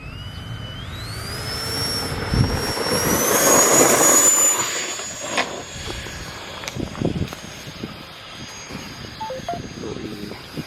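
Ducted-fan RC Su-57 model jet on its maiden flight, a high whine that rises steadily in pitch, swells into a loud rushing roar, then fades into quieter ambient sound with faint chirps.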